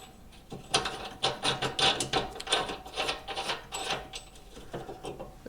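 A ratchet tightens a bolt on a Harbor Freight generator wheel kit, giving a close run of rapid, even clicking strokes in repeated bursts with no talk.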